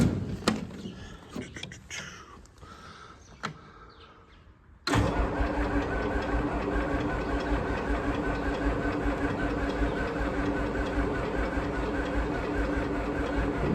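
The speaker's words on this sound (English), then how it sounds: "Raw cold start." A W3355 sand shooter engine cold-starts unplugged in snowy cold, cranking briefly after a few knocks and clatters, then catching and settling into a loud, steady idle that runs on alone for the rest of the clip.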